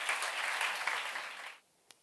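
A church congregation bursts into brief, fairly quiet applause during a sermon, a dense patter of clapping that cuts off abruptly, leaving near silence and one stray clap.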